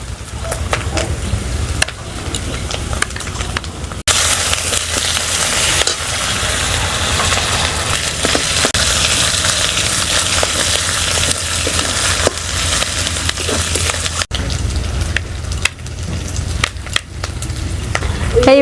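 Ginger and garlic paste fries with browned onions for a Bengali lemon katla fish curry. A loud, steady sizzle runs throughout, broken by occasional clicks and clatter from stirring.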